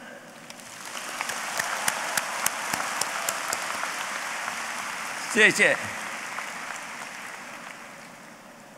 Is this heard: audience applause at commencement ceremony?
yes